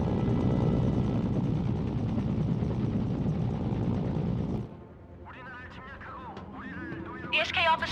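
Helicopter in the video game Mercenaries, a loud, dense rotor and engine drone that holds steady for about four and a half seconds, then cuts back sharply as voices take over.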